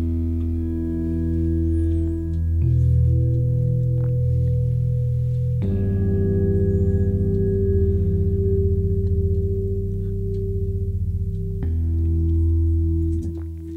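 A deep, sustained synth bass from Native Instruments' Electric Keys Phoenix plays long held notes with a gritty, growling buzz, changing pitch every few seconds, with no voices.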